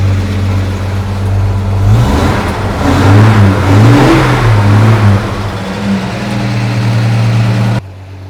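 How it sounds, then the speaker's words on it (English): A 1969 Toyota FJ45 four-wheel-drive engine runs steadily at idle with a low, even hum, briefly rising in pitch midway, close to the microphone, with no talking. "the car is idling and it is so smooth"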